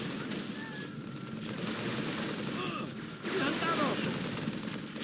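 Pistol fire in the Halo 3 video game, bursts of shots over a dense, noisy battle soundscape, fairly loud and continuous with no clear pauses.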